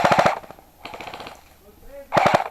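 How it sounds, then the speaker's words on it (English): An airsoft pistol is dry fired, giving bursts of sharp rapid clicks in quick strings, separated by brief pauses, close and fairly loud with a little background voice. "you can clearly hear that he's dry firing at the moment"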